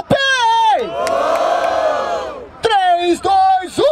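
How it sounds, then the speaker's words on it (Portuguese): A crowd at a rap battle in Barueri, São Paulo, roars loudly, with sustained shouting and whooping voices rising and falling in bursts. "Barulho para as rimas do Salvador"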